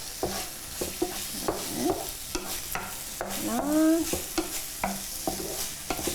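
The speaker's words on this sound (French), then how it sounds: "je sens l'oignon qui caramélise un petit peu" Onion and red pepper sizzling and caramelizing in a pan, a steady close fry punctuated by frequent utensil taps and scrapes, with a brief squeaky whine partway through.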